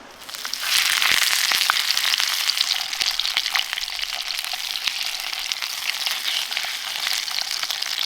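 Pork and tomato sausages frying for breakfast over a campfire at a woodland wild camp, a loud, steady close sizzle with crackling pops that starts abruptly and continues throughout.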